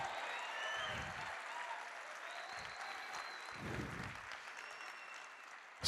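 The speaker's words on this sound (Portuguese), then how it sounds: "dê uma salva de palmas para o Senhor" Congregation applause fills a church during a sermon, a steady, moderately quiet wash of clapping that holds for several seconds, with a few low thumps underneath and a sharp noise at the very end.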